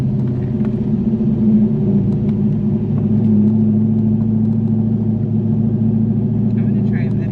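A cammed Corvette idles and rumbles with a low, steady, loping engine drone, close and loud inside the car during manual driving practice, with no clear revving peaks.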